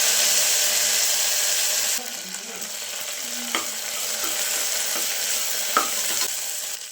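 Mint leaves hit hot oil with whole spices and green chillies in a pan for jeera rice, giving a continuous bright sizzle and frying hiss with a few scraping stirs and clinks, and no talk.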